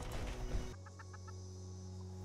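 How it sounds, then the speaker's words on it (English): In the video game Fallout 76, a chicken gives a few quick, soft clucks in a short burst. Before that comes a louder rumbling ambient background that drops off, and a low hum continues underneath. "It's a chicken."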